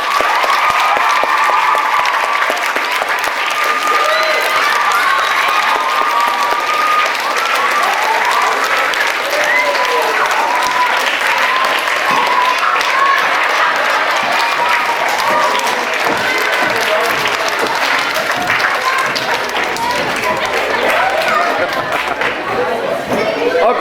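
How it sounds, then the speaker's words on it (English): Sustained loud applause from an audience at a school matric ceremony fills the room with dense, steady clapping and crowd chatter throughout, without letup. "give them another round of applause as I call it"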